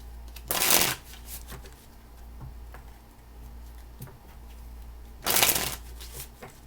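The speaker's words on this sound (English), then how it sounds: "Two more shuffles." Tarot cards are shuffled in two short, crisp riffle bursts several seconds apart, quiet and close, with faint ticking and soft handling noises in between.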